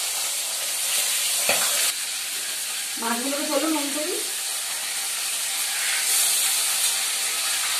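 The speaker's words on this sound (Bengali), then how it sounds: "অলরেডি দেখুন আমার তেলটা গরম হয়ে গেছে, আমি মাছগুলোকে এক এক করে ছেড়ে দেবো" Fish fries in hot oil with a loud, continuous sizzling hiss that holds steady throughout; someone speaks briefly over the crackle partway through.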